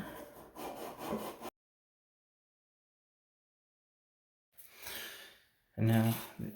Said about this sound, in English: clean the end of the copper